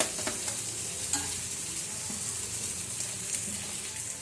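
Rice being stirred and fried in a pan, a steady close sizzle with scraping spoon strokes and occasional clinks throughout.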